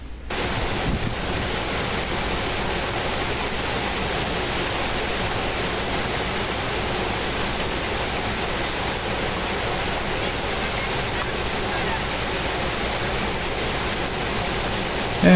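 The St. Louis River rushes over rocks in a steady, loud, broadband roar that fills the scene without pause, close by and with no voices.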